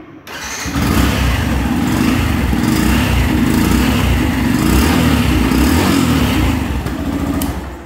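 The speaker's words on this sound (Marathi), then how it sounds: "मला मी आता या गाडीचा साऊंड ऐकवतो कसा येतो. एक मिनिट, गाडी न्यूट्रल आहे." A 2024 Yamaha FZ-S Version 4.0 motorcycle starts up indoors in a showroom and settles into a steady, loud, close idle in neutral that runs unbroken to the end.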